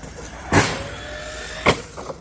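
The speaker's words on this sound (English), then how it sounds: "That tire rub, it's not going to hurt anything, but it sure is an annoying sound." An MJX Hyper Go 1/10 scale RC car, the 6S version, with a tire rubbing as it runs: a thin rubbing whine with two sharp scraping bursts and a fainter scuff near the end, with no talk.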